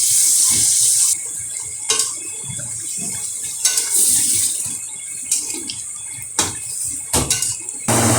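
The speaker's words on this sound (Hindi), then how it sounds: "थोड़ा सा हम इसके अंदर पानी ऐड कर लेंगे," Water from roughly half a glass splashes into a pan of green chicken karahi simmering in ghee, a loud, close hiss and splatter with sharp clinks and bumps of utensils scattered through.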